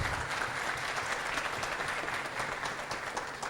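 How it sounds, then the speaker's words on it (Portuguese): A workshop audience claps continuously for the speakers, a dense even wash of applause at moderate volume throughout. "Salva de palmas para nossos palestrantes."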